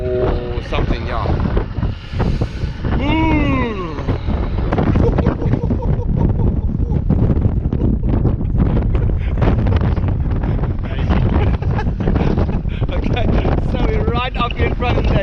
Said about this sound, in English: Up here in front of the heads, and you can hear the wind pumping.